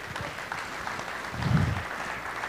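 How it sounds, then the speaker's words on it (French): An audience applauds after a speaker asks them to welcome Marc-Lionel Gâteau, with a moderate, somewhat distant patter of clapping that swells briefly near the middle. "Je vous demande de bien applaudir Marc-Lionel Gâteau"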